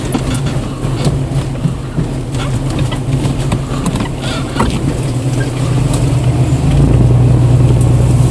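A 4x4 truck's engine drones low and steady while it pushes through deep mud on a wooded trail, the rumble swelling louder toward the end with splashy noise throughout.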